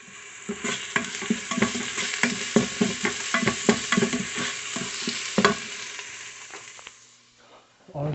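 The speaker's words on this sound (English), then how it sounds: "Onions are getting brown. I'll put some garlic cloves." Onions and garlic cloves frying in a pan, a bright constant sizzle with rapid rhythmic scraping strokes of a spatula stirring them, close and loud, fading out near the end.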